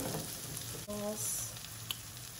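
Bulgur and rice toast in a pan with a quiet steady frying hiss and a faint clink or two, and nothing stands out from the low background.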